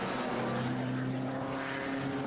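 A Nissan race car roars past heading into turn one at a Western Australia Improved Production car race, with a steady, loud engine drone and rising whine, heard close with no talking.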